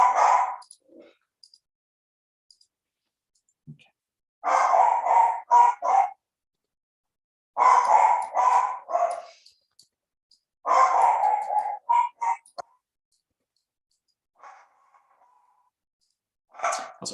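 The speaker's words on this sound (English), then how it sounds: "Also, sorry about the dog." A dog makes several separate bursts of grunting, huffing barks indoors, close and moderately loud, with long quiet gaps between them.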